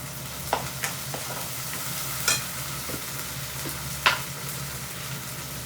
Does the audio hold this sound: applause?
no